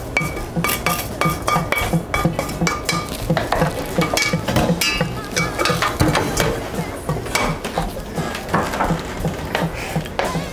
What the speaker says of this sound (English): as she's mixing that, going to mix our garnish